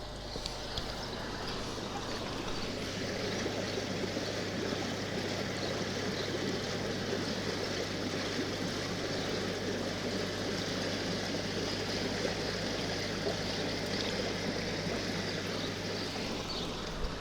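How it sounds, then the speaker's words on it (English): Water flows steadily through a koi pond system, rushing continuously with a constant low hum beneath it, unchanging from start to finish. "the system's still getting a good flow of water"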